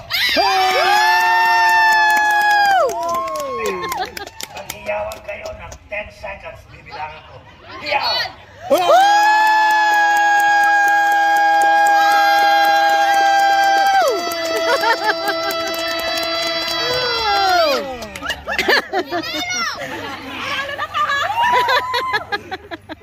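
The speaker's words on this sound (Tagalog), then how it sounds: "Pilipino sa Morocco, maghiyawan kayo." A Filipino crowd at a Pinoy fiesta in Morocco shouts and cheers loudly in long, sustained collective yells, with a short lull between swells and some chatter near the end.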